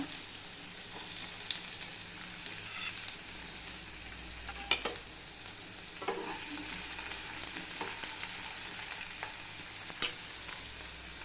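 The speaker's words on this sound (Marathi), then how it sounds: "आता टाकते कांदा. कांदा चांगला तेलामध्ये फ्राय करून घ्यायचा." Onion frying in hot oil with cumin seeds in a pan, a steady close sizzle throughout with occasional sharp crackles and scraping stirs.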